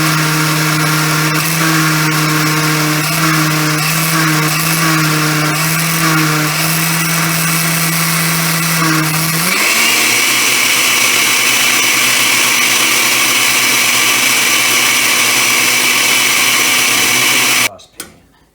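A blender runs loud and close, a sustained motor whine that steps up in pitch and intensity partway through, holds steady, then cuts off near the end.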